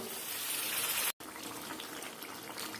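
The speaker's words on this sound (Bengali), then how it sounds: "এখন একটু দিয়ে দেবো গরম জল" Hot water pours into a cooking pot of chicken skin and jackfruit, a steady close gushing stream that cuts off for a moment and then continues rushing, with no voices.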